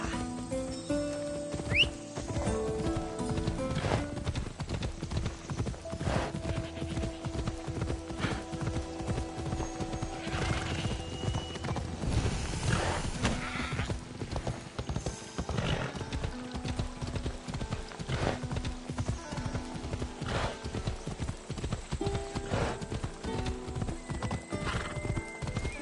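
Horse galloping in Assassin's Creed Odyssey: rapid, steady hoofbeats run throughout, with occasional whinnies and neighs and a game music bed underneath.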